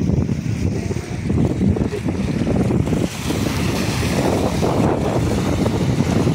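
Water waves splashing against the stone walls of a temple tank at Paithan, a continuous, loud wash of surf and wind-blown rush with a brief dip midway and no clear speech.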